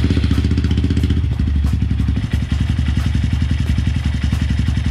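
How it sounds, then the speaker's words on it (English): A Honda Grom motorcycle engine idles after an oil change, its small single-cylinder putter steady, loud and close, with light mechanical clatter throughout. "I'm gonna let the bike run for 3 to 5 minutes, make sure there's no leaks"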